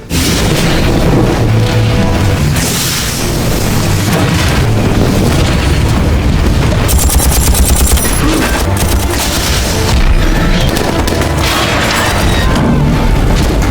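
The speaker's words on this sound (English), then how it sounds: "Without mercy, Tony set the entire arsenal ablaze, destroying every weapon until nothing was left." An arsenal burns in a Marvel Iron Man story, with loud continuous explosions and crackling bursts like rapid gunfire layered over a heavy roaring rumble for the whole stretch.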